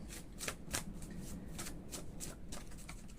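Oracle cards being shuffled by hand, a quick run of crisp riffling flutters and soft slaps repeating at a steady pace, close and fairly quiet with no speech.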